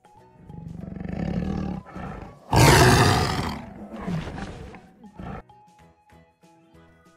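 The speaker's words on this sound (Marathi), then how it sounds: "वाघाची डरकाळी" A tiger roars in several deep, growling bursts, the loudest in the middle, followed by fading grunts and rumbles, close and unaccompanied.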